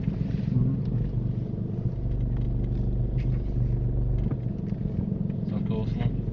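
A car in first gear pulls up at the kerb during a driving lesson, with a steady low engine rumble and road noise throughout and voices talking over it.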